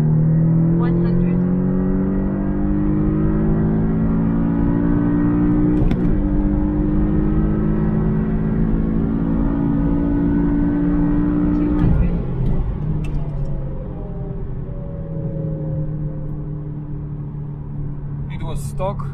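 Porsche 718S (982) with a Race Chip tune, manual gearbox, accelerating hard: engine note climbs steadily through a long pull, drops briefly at a gear change, then climbs again, loud and close inside the cabin with speech over it.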